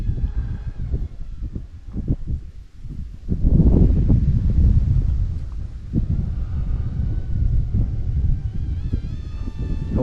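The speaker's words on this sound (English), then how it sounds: "We have a lot of breeze." Strong outdoor wind buffets the microphone in gusts, rumbling and roaring with rustling at a mini 787 RC airplane flying field, a thin high whine audible in places.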